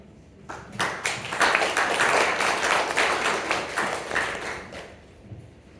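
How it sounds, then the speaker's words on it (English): Audience applause for a young AI and emerging-tech panelist at a conference panel, a dense burst of clapping that swells quickly, holds steady for several seconds, then thins out and fades. "Round of applause, please."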